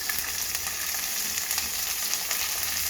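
Beans tossed in with capsicum and carrot sizzle in a hot pan, a steady, bright frying hiss running evenly throughout with no voices.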